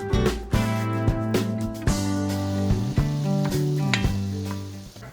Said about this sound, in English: First thing we need to do is brown the ground beef.